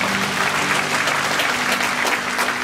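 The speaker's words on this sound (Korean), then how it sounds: "저희 영광의 박수 올려드리겠습니다" Congregation applause during a Friday night church worship service, a dense, steady patter of many hands clapping at close range that holds throughout without pause.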